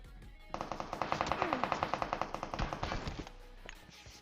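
Automatic gunfire from PUBG Mobile rattles out in a fast, steady burst of about two dozen evenly spaced shots lasting nearly three seconds, loud and close, then cuts off.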